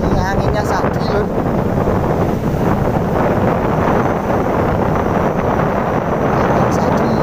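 Strong wind blows across the microphone on a beach during shore fishing, a constant loud roaring buffet throughout, with muffled voices faintly mixed in.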